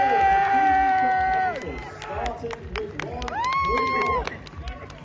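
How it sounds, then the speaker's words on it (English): An audience at a PCA bodybuilding show cheers and claps briefly while a loud announcer's voice and music sit on top, the crowd noise rising in short bursts. "Audience members, a round of applause."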